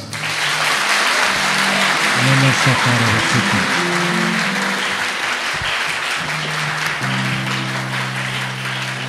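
A church congregation applauds and cheers loudly and continuously, with claps and shouts layered over a sustained keyboard chord and a voice rising through the crowd.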